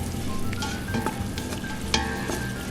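Red wine sauce for cioppino, a fisherman's stew, bubbles and reduces in a pan, giving a steady close sizzling hiss with a few soft clinks and spits along the way.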